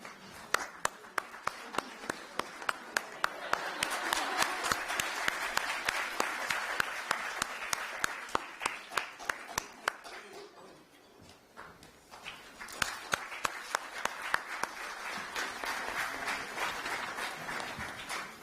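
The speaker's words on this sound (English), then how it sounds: "Keep clapping, guys, please." Conference audience applauding in a hall: rhythmic, fairly close claps with a fuller wash of clapping that fades briefly midway, then swells again with steady beats.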